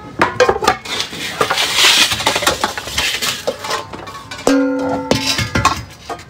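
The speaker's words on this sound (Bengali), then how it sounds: "অনেকগুলো লোহার কড়াই আছে, এই কড়াইগুলো আপনাদেরকে একটু দেখাতে চাই" Heavy iron woks from an old ship's kitchen clank and clatter as they are handled, with repeated loud metallic knocks and a couple of ringing strikes, close up and with no talking.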